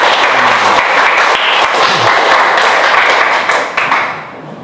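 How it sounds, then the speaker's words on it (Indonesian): A class of students applauds in a classroom during a lesson, dense loud clapping close by that holds steady and then tapers off near the end. "berikan tepuk tangan buat temannya."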